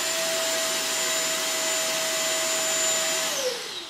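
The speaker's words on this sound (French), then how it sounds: "Le premier permet d'activer l'aspirateur." A Roidmi X30 Pro cordless vacuum cleaner runs with a loud, steady high-pitched whine and airy rush, then winds down near the end.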